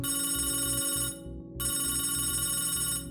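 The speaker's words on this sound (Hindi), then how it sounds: "उनके बेडरूम में फ़ोन बजता था" A telephone rings in a bedroom at night with a steady electronic ringing tone that repeats in bursts, a short gap about a second in, then resumes loudly and close.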